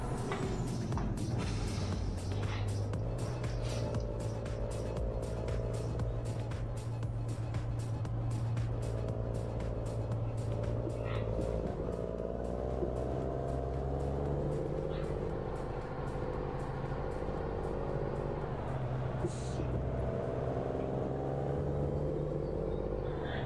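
A Ford Cargo truck in Euro Truck Simulator 2 drives along a road with speed bumps, its engine a steady low rumble with gear-shift changes in pitch and rattling mechanical ticks, under continuous talking.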